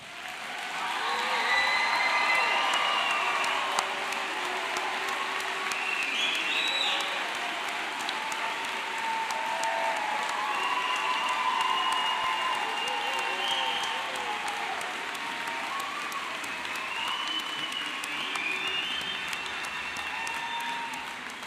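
Sustained applause for graduates at a university commencement ceremony, a large crowd clapping steadily and loudly for over twenty seconds with a few scattered cheers and whoops rising above the dense wash.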